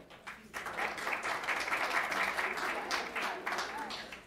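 Applause breaks out in a school board meeting room, a quick swell of many people clapping that holds steady and close, with murmured voices beneath.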